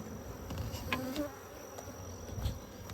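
Honey bees buzz faintly and continuously at a mini mating nuc outdoors, a soft steady hum with a few brief louder passes.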